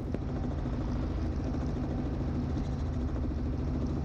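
A Robinson R44 helicopter on landing approach, heard from inside as a steady, loud rotor and engine drone with a constant low rumble, unbroken for the whole stretch.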